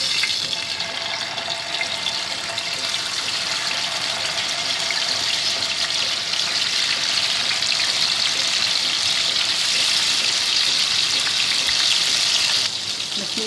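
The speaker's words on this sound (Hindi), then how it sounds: "इसमें मछली को फ्राई कर लेंगे।" Fish sizzling in hot oil in a frying pan over low heat, a steady broadband hiss and crackle that holds evenly for about thirteen seconds before cutting off near the end.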